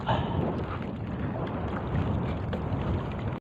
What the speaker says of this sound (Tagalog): lumalakas na ang hangin